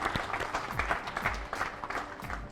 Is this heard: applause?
yes